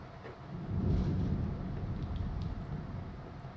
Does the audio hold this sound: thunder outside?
yes